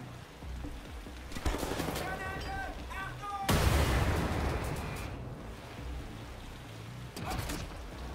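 Gunfire from an overpowered weapon in the first-person shooter Wolfenstein: The New Order, heavy booming shots and bursts with a loud blast midway, against game music and effects.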